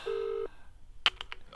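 Telephone tones up close: a steady held beep, then after a short gap a quick run of four distinct dialing tones.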